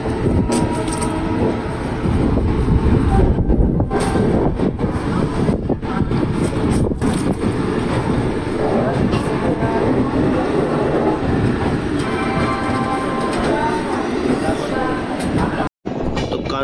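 Howrah Jodhpur Superfast Express passing Kanpur Central, a steady loud rumble of rolling wheels and carriage noise that persists throughout with a brief dropout near the end.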